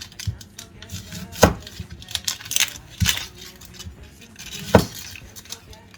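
A knife slices through two medium-to-small onions on a board, giving a few sharp, separate cuts spread unevenly over several seconds, with soft kitchen handling noise between them.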